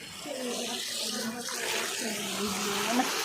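A steady stream of running water pours from a tap into a bucket, a continuous rushing splash with a voice speaking over it.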